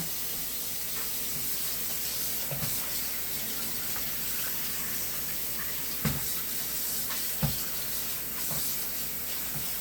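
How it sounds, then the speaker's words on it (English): Water runs steadily from a tap into a sink, a constant hiss with a few faint clinks and knocks. "Right now I got the cold water."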